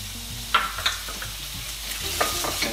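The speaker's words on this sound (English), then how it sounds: "we're gonna hit our pan with our onion." Chopped onion hits a hot pan holding beef rib juices and red wine sauce base and is stirred: a steady close sizzle with a few scraping stir clicks, no voices.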